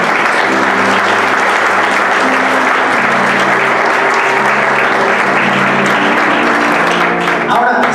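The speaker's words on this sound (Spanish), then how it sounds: "Dale un aplauso a Dios." Loud, dense applause from a church congregation fills the space continuously, with music or voices carrying underneath it.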